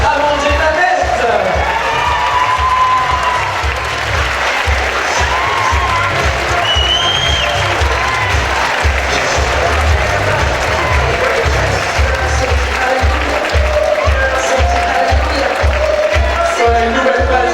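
Audience applauding and cheering at the Miss Oise 2015 pageant at Parc Saint Paul, a steady, loud wash of clapping and crowd noise lasting throughout, with a voice talking faintly beneath it.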